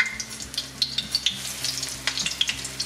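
Battered vegan fish frying in a pan, a soft close sizzle with short stirring scrapes and a few light pops over nearly three seconds.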